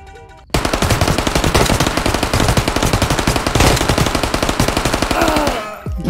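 Bizon submachine gun fired in the VR game Ghosts of Tabor, one sustained burst of rapid, loud automatic shots in a tight steady rhythm after a brief quiet start, close and dry, tapering near the end.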